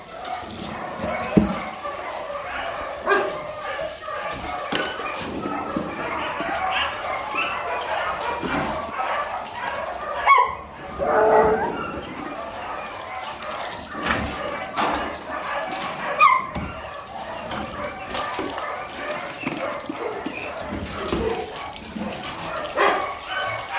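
Several dogs at the Bečej animal shelter in Serbia bark, yip and whimper continuously in a muddy outdoor enclosure, some close and some farther off, with people talking now and then.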